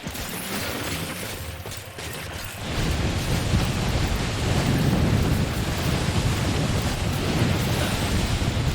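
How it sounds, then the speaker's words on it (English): A loud thunderstorm in the video game Death Stranding: rain and rumbling wind swell suddenly to a heavy, dense roar of low thunder and downpour that stays intense without voices. "I don't know why the storm just got incredibly loud."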